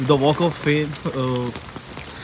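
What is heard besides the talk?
rain falling in Los Angeles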